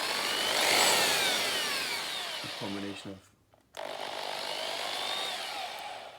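A Black and Decker hammer drill whines loudly and steadily at close range, stops briefly, then runs again, with a voice speaking over the noise.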